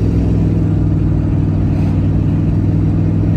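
A pickup truck engine runs with a steady low droning hum and strong rumble, unchanging and close, on a cold morning with no talk over it.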